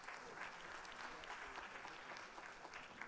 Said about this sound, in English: And so let's give them a round of applause.